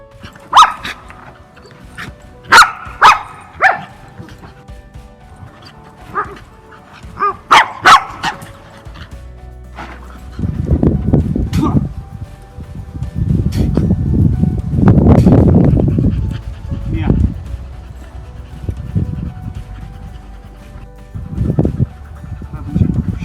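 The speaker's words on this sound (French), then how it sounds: "je vais m'approcher du chien pour provoquer la morsure" A white Samoyed dog under an aggression test by a trainer gives a run of sharp barks, then heavy rhythmic panting and huffing close to the microphone, loud and near throughout.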